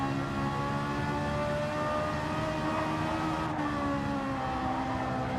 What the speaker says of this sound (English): The sound good though, that Ferrari.